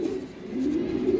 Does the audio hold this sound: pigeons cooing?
yes